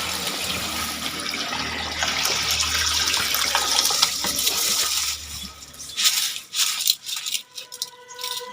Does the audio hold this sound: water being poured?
yes